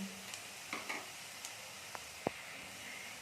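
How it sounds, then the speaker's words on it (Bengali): Onions frying in a pan for a spicy puli dish, a soft close sizzle with a few light clinks and stirring taps, quiet and without talk. "আমাদের একটু পেঁয়াজটা লাল করে ভেজে নিতে হবে"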